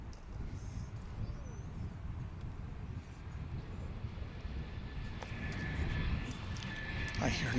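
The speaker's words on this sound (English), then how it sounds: "I hear another aircraft coming" Airliner approaching at Dallas/Fort Worth Airport, a broad low roar that builds steadily and grows louder toward the end, with some wind noise.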